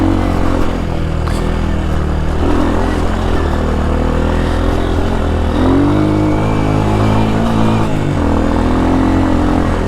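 A 2005 Honda CRF230F dirt bike engine droning steadily while riding off-road, loud and close, with rising and falling revs and some mechanical clatter, no voices.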